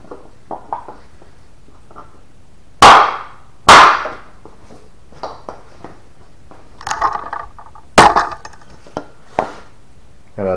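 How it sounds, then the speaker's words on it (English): A tiny hammer knocks against a wood block during big-block Mopar engine assembly, producing sharp, close, loud strikes, two strong hits early, then a scattering of lighter taps and a few more solid knocks. "I can't find my rubber hammer. Here's a block of wood."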